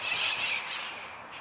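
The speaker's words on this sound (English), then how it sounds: "Got the South Pasadena parrots flying through." Parrots flying over South Pasadena give harsh, high squawks overhead, a brief burst of calls at moderate distance with no talking.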